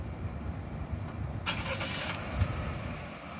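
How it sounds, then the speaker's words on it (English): A 2019 Buick Encore's engine cranks and catches after a key fob remote start, a broadband burst rising out of steady background rumble and settling into a running hum, with no talk. "And then the engine will start."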